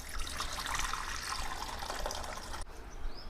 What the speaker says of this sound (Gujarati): હવે એમાં આપણે થોડુંક પાણી નાખી દઈશું